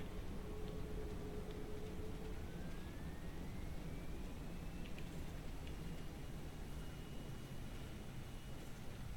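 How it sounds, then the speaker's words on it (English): Learjet 45 jet engines roaring in reverse thrust during landing rollout in a flight simulator, a steady, loud broadband rush holding evenly throughout with faint tonal whines rising over it. "Reverse thrust deployed."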